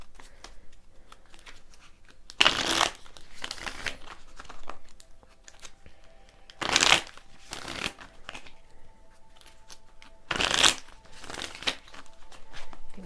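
Tarot and oracle cards are shuffled in three crisp, brief riffling bursts spaced several seconds apart, close and fairly loud, with quiet room tone in between.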